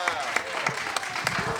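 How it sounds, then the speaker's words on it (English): Audience applauding at a live rhythm music session, scattered claps forming a steady patter in a room. "Let's have a round of applause for your conductors"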